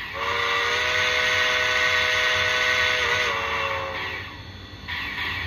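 Sound-decoder whistle on a brass Sunset Models Southern Pacific AC-9 2-8-8-4 oil-burning model steam locomotive: one long, loud, sustained chime-like blast that holds for about four seconds, bends slightly, then fades out, with no one talking.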